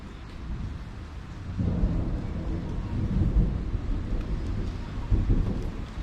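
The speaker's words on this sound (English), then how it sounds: "we've got a bit of a storm rolling through as well" A thunderstorm rolls through outdoors by the water, a low rumbling roar of thunder with steady rain and wind noise that swells and stays loud throughout.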